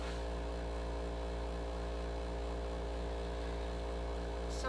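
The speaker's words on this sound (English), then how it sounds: "Unfortunately, it's a noisy air conditioner." A noisy air conditioner running indoors gives a steady, even hum with a low buzzing drone that stays constant throughout, with no voices.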